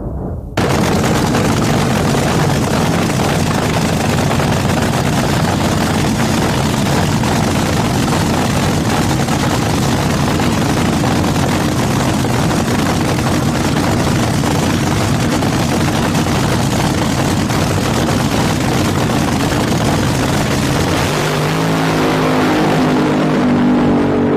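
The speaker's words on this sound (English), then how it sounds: "The funny cars howl and bark like savage dogs." A nitro funny car drag racing engine gives a deafening, sustained roar with harsh crackling, close and overwhelming, holding at full volume before a brief rumbling tail at the end.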